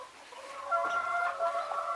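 Chickens in a coop cluck and murmur softly at close range, a few overlapping calls over a quiet background, with no talking.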